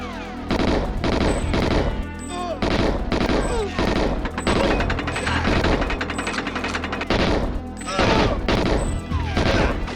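Rapid bursts of submachine gun fire from the GoldenEye 007 first-person shooter, Xbox Live Arcade version, crackle loud and dense for the whole stretch, with near-continuous volleys broken by brief pauses.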